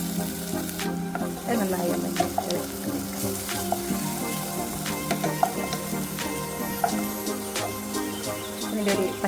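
Green chilli, garlic and ginger paste frying in a pan for chicken biriyani, a steady close sizzle with spoon scrapes and clinks, while a person speaks briefly over it.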